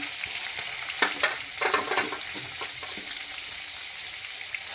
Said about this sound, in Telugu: పచ్చిమిరపకాయలు వేగుతుండగా అట్లనే ఉల్లిపాయలు కూడా వేసుకోవాలి.